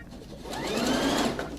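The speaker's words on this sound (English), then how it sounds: "We're just going to continue basting all the way across this raw edge." A sewing machine running a steady straight basting stitch along the raw edge of a fabric mermaid tail, a continuous close whirring hum that holds for over a second with no voices.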